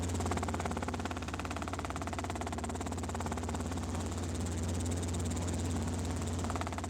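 Helicopter flying at about 60 knots over San Diego near Montgomery Field, a steady close rotor and turbine drone with fast regular blade chop, continuous and loud throughout with no talking.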